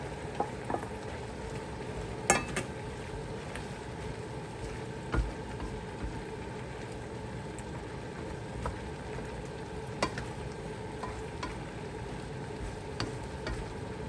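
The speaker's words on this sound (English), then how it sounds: "Now I add the shrimp and meat mixture back." A shrimp and meat mixture for Malaysian Hokkien mee sizzles steadily in a wok, with scattered scraping clinks from stirring over the continuous frying hiss.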